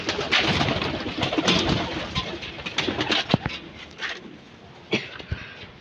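Pet pigeons in a new loft give soft, continuous cooing and rustling close by, with a few sharper clicks and wing flutters scattered through.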